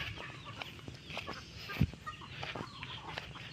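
Chickens cluck in close, uneven bursts around a farmyard nesting area, with one louder squawk near the middle and a steady murmur of fowl behind it.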